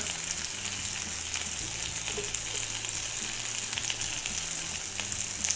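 A buttered artisan bun sizzles on a Ninja GR101 Sizzle smokeless indoor grill griddle, an even, steady frying hiss with fine crackle throughout, close and moderately loud, without talking.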